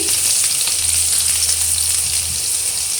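Garlic, ginger and a chili fry in about four spoons of oil in a pan, a loud close continuous sizzle with no voices.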